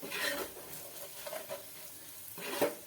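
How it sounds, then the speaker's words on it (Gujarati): Spiced masala filling for aloo patties sautés in a pan with only a little oil, giving a quiet sizzle with soft stirring scrapes in a few short bursts. "તો મસાલાને આ રીતે થોડીક વાર માટે સાતળી લેવાના।"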